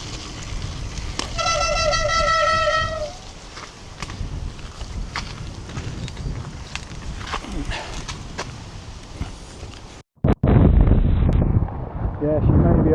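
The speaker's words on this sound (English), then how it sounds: "Definitely going to be windy." Strong wind buffets the microphone on a gravel bike ride throughout, a constant low roar with gusts, broken by a brief dropout near the end; faint tones sound early on.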